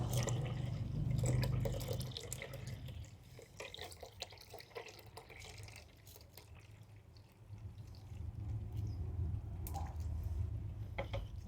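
Water running and dripping into a bucket being filled for bike washing, a steady splashing flow with low rushing and scattered drips, close by, with no talk.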